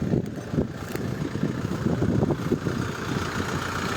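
A Skaut tractor engine runs during hay mowing, a steady low rumbling drone close by that continues unbroken with faint mechanical knocks, no talk over it.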